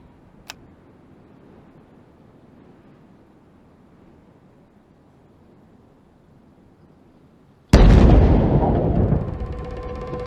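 A large detonation destroying surplus military ammunition at a NATO base in Afghanistan erupts as one sudden, loud blast that rumbles and decays after a long quiet stretch, preceded by a single faint tick.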